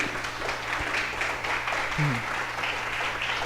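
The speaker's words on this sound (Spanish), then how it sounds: "¿Puede darle al Señor entonces un aplauso por gratitud?" Congregation applause at a Spanish-language church service for Yom Teruah, the Day of Trumpets, 2016: steady mid-level clapping from the worshippers runs through the whole stretch, with a low hum and a brief voice-like tone partway through.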